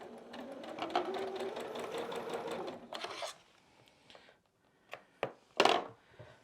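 A sewing machine piecing a quilt block runs in a fast steady whir for about three seconds, then stops, followed by a few sharp clunks and knocks.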